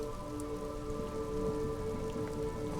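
Steady rain pours down during a traffic jam in town, a continuous even hiss with a low engine-like hum underneath, no voices.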